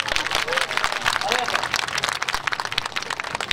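Street-performance audience at an outdoor festival applauding together, a dense, steady wash of clapping from a nearby crowd that holds for several seconds with some voices mixed in.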